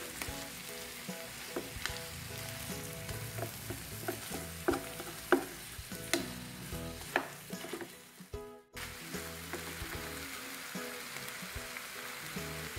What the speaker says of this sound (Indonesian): Aduk-aduk sampai bumbunya tercampur merata dengan daging ayamnya